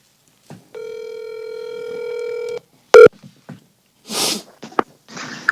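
A phone call rings out over a speakerphone: one long steady ringback tone lasting about two seconds, then a short sharp beep, followed by faint rustling and breathy noises, with no talking.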